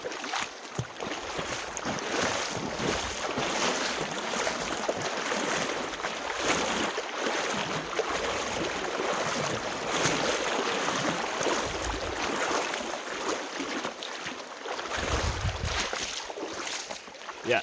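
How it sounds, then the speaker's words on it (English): Wading knee-deep across the shallow Maligne River on a hike: continuous splashing and sloshing of legs pushing through water, steady and close, with wind buffeting the microphone throughout. "We're going to be crossing the Maligne River."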